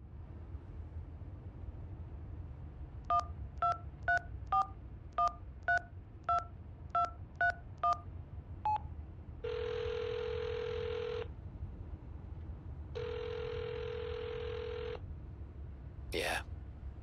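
A telephone number is dialed in the video game HitchHiker: a quick run of about ten touch-tone beeps, followed by two long, steady ringing tones and a short electronic blip at the end.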